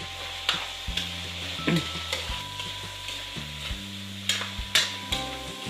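Chicken afritada made with back fat is stirred in a pan, giving a close, soft sizzle broken by repeated scraping and clinking spoon strokes at an uneven rhythm.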